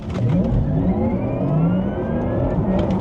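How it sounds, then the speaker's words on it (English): A Porsche Taycan Turbo electric car accelerates hard with a rising electric whine and whir, the pitch climbing steadily and shifting once as its 2-speed gearbox changes gear; loud and close, no talk. "You can actually hear the 2-speed gearbox changing gears as well."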